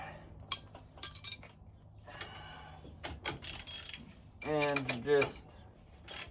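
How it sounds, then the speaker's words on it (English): A 21 mm ratchet works on the shock bolt during a front-end rebuild of a 1999–2007 Chevy 2500 HD truck, with sharp metallic clicks and clinks in short bursts and brief speech between them. "So I got 21 millimeter wrench, and then I got my 21 millimeter ratchet"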